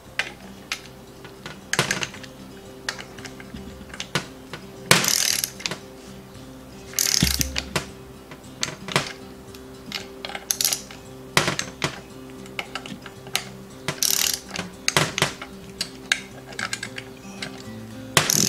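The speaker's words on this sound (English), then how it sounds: "you do that, you get that little click." Mechanical clicking and ratcheting from a torque wrench tightening timing cover bolts on an Opel CIH engine, with repeated sharp clicks spaced through the clip over a steady workshop hum, no talking.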